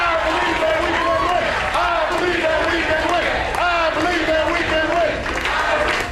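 A room of White House staffers, led by their boss, yells and cheers together while watching a game: loud, dense crowd shouting and whooping from start to finish.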